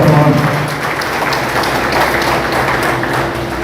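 Applause fills a BJP party workers' meeting in Ambala Cantonment, a steady dense clapping from the crowd sustained loudly throughout, with a voice faintly mixed underneath.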